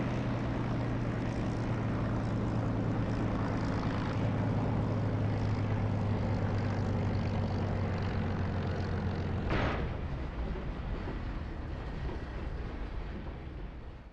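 An airplane lands in the DCS flight simulator, a steady droning propeller engine hum that stays loud and even, with a single sharp thump partway through before the drone eases off slightly toward the end.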